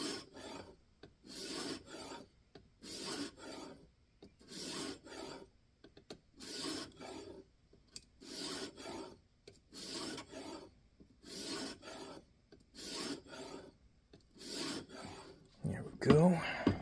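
A Kizer Domin knife with N690 steel is stroked across a 1500 diamond sharpening plate, about ten short rasping swipes in an even rhythm, close and fairly quiet with brief gaps between them.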